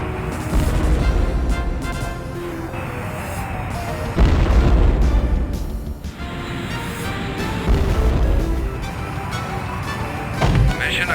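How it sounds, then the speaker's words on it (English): Heavy anti-aircraft ground fire in the 1993 Strike Commander flight game: repeated loud booms and bursts rolling in waves, with big blasts near four and eight seconds and scattered pops between. "Stay alert, Commander. The ground fire is heavy."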